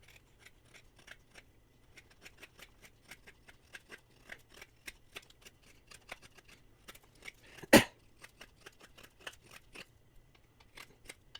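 Knife blade shaving curls from a pine 2x4, a quiet series of close, sharp scraping strokes in an irregular rhythm with one louder cut near the end, no speech.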